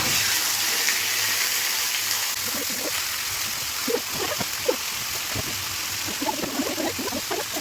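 Water drains and trickles off a freshly washed duck, a continuous hissing splash like a running tap, with intermittent drips and small clatters near the end.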